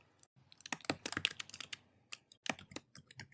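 Rapid clattering keystrokes on a computer keyboard as a file name is typed, with irregular bursts of close, crisp clicks and short pauses between them, and no voices.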